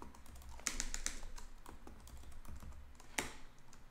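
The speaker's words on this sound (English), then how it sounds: "I'm just typing in these in randomly" Quiet typing on a computer keyboard, a fast stream of light key clicks with a couple of sharper taps, heard faintly and close with no voice.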